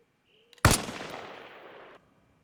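One close, sharp sniper rifle shot fires FMJ ammo in Arma Reforger, and a roughly one-second echoing tail follows after a few faint clicks.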